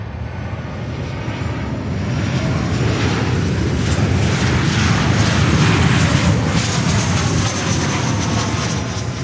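Jet aircraft at Miami Airport, a busy cargo hub, with a loud, steady engine roar that swells slightly mid-way, broadband rumble filling the whole stretch with no voices.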